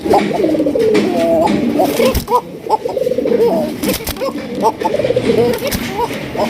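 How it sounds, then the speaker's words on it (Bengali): Arabian Gola pigeons coo repeatedly in a rhythmic, throaty series at close range, overlapping one another with soft background noise throughout. "খুবই সুন্দর একজন অ্যারাবিয়ান গগা দেখতেই পাচ্ছেন খুবই ডাকাডাকি করে বেটায়"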